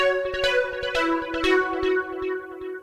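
Bright Italo disco synth lead patch from a U-He Diva, playing a short melodic phrase of sustained harmonic-rich notes with sharp attacks, loud and alone without any talk.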